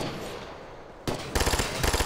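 Automatic gunfire in Ghost Recon: Future Soldier erupts after a second of quiet ambience, a sharp burst followed by loud rhythmic rapid fire, close and dominant, with no talk over it.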